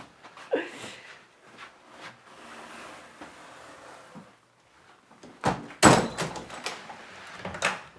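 Old door leading down to a stone cellar, with a creak early on, then a louder thud and clatter of the door moving near the end, close and alone without talk.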